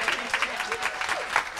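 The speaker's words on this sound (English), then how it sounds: "And give this director a hand clap of praise." A church congregation claps hands in praise, with quick, rhythmic bursts of applause from a crowd at moderate distance.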